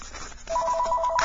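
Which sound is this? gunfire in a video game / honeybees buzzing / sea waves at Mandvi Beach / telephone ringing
telephone ringing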